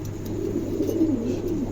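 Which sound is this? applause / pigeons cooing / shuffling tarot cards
pigeons cooing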